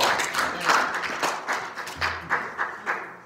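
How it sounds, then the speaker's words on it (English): A church congregation claps, with scattered crowd applause thinning into a handful of distinct, evenly spaced hand claps toward the end, moderately close in a roomy space. "give the Lord a hand clap"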